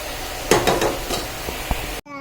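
A spoon stirs and sautés khichuri in a pot with salt and turmeric, giving a steady close sizzle broken by several sharp scraping strokes, no talking.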